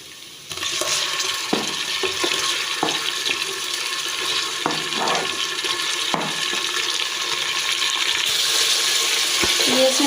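Chicken liver for a masala kaleji curry starts frying in a pan with a sudden, loud, steady sizzle that carries on throughout, broken by clinks and scrapes of stirring.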